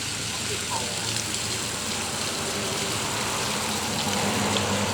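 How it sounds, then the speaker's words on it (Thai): Water gushes steadily out of a dug pipe outdoors, a continuous broadband rushing flow at constant loudness with a voice faintly over it. "น้ำไหลดีครับวันนี้ เป็นขุดท่อนี่ไหลดีครับ"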